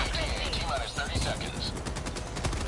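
Video game gunfire pops in quick rapid bursts alongside a player's voice, fairly close and continuous throughout the short stretch.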